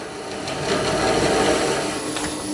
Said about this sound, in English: slicing the wood.